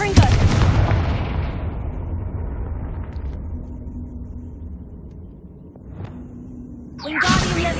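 A loud fiery blast from a Confringo spell in Hogwarts Legacy erupts at the start and fades over several seconds, followed by smaller pops and a second burst near the end.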